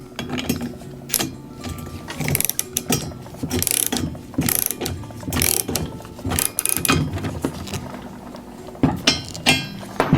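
Bursts of ratcheting with metallic clicks come from a wrench loosening and adjusting a bolt on a Vevor rolling garden seat during assembly. The irregular clicking runs throughout at close range, with short pauses between strokes.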